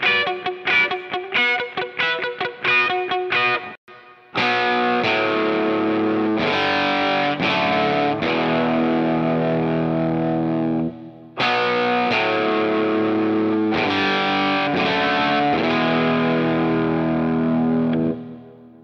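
Distorted electric guitar plays a rock opening riff: stabbed chord hits and quick single notes, then sustained crunchy power chords with brief pauses, loud and close, no voices.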